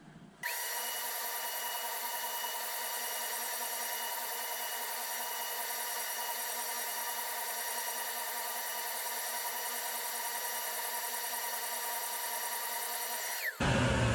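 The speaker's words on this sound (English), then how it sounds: "the flat lines I'm going to get on the disc sander" Disc sander running steadily while shaping a Bakelite guitar pick guard, a constant high whirring drone that holds for about thirteen seconds before cutting off, close and even.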